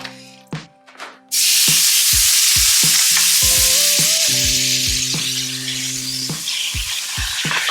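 Marinated meat for nachos hits a hot pan with a sudden loud sizzle that keeps hissing steadily, with scattered clinks and scrapes of a utensil stirring, no talk.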